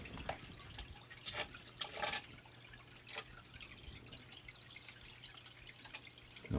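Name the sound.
water washing gold sampler material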